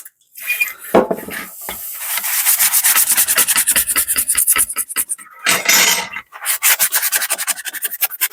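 Hand sanding on a 2004 Vespa ET2 scooter, lubricated with WD-40, gives rhythmic rasping strokes in quick bursts. The strokes are close and loud, with short pauses between sets.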